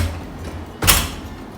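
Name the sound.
door closing in a hotel room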